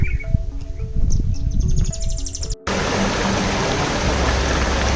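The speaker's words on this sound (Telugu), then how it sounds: "పక్షుల కిలకిలా రావాలు" Birds chirping in Nallamala forest, bright tweets and a rising trill over quiet ambience, then an abrupt cut to a loud steady rush of flowing water that masks the birdsong.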